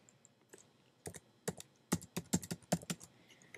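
An IP address is typed on a computer keyboard, starting with a few faint taps and building into a quick close burst of distinct key clicks, with no speech.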